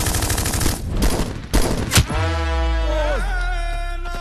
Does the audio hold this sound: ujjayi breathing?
no